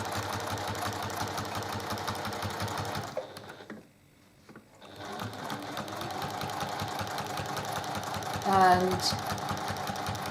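A sewing machine fitted with a walking foot stitches quilting in a steady rapid whir, stopping briefly for a second or so before running again, while a voice talks over it.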